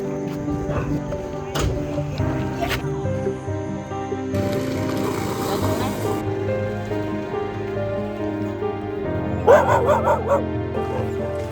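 Stray dogs barking and yipping on the streets of Thailand, several dogs giving repeated barks with some whimpering over rain noise, with a louder burst of barking near the end and people talking in the background.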